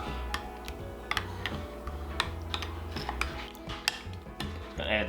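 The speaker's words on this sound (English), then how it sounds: "And just give her a good mix." Stirring a casserole of rice, water and cream of mushroom soup in a bowl, with a series of close, sharp clicks and taps from the utensil against the dish, steady and unhurried, no voices.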